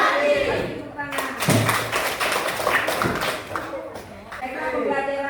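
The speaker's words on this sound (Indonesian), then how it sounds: "Tepuk tangan." Pupils in a classroom clap hands in a short rhythmic tepuk routine, with sharp, close taps mixed among a teacher's and children's voices.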